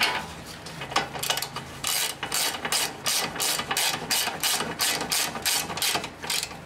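A ratchet tightens a 17 mm castle nut on a mid-1990s Honda Accord steering rack, with rapid close clicking in repeated bursts of strokes.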